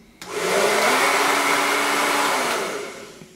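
A hair dryer switches on and blows with a steady, loud whirring roar for a few seconds before winding down.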